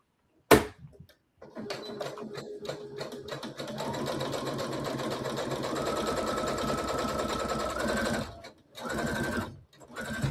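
SE700 sewing machine stitching slippery fabric for a zipper headband, a sharp click followed by a steady, close mechanical whir that rises in pitch, pauses briefly, then resumes.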